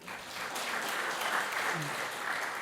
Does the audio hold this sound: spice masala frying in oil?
no